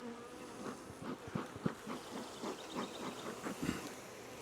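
Honeybees buzz in an opened hive during a frame inspection, a soft, close, fluttering drone with small pulses of louder wingbeats.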